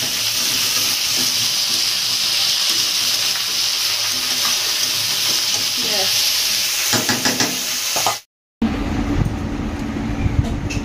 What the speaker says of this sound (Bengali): একটু নুন দিয়ে এটাকে ঢাকা দিয়ে দিয়ে এটা ভাজা ভাজা হতে থাক